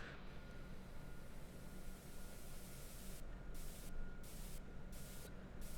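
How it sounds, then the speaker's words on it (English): A dense, noisy electronic texture washes steadily through a track mix, sweeping around under heavy auto-panning, with rhythmic gating chopping the upper hiss in regular pulses toward the end. "It's got some mad auto pan going on."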